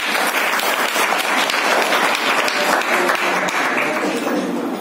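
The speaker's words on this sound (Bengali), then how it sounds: "মহসিনার জন্য জোরে একটি করতালি হয়ে যাক" An audience at a Rabindra Jayanti program gives loud, sustained applause after a recitation, a dense wash of clapping that fills the whole stretch with no break.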